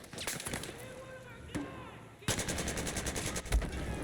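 Gunfire in the video game Battlefield 4, rapid bursts of automatic fire with single shots, a quieter lull and then a dense sustained burst, with a voice talking over it.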